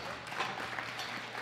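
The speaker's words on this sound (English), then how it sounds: "Give her a round of applause." Audience applause at a powerlifting medal ceremony at the 2018 World Classic Powerlifting Championships, a steady wash of clapping from a crowd that stays even throughout without any voices.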